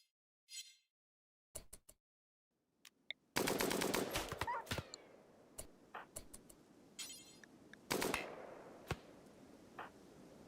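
Colonist gunfire in the video game Rimworld, sharp isolated shots at first, then rapid bursts of loud clattering fire with brief pauses between volleys.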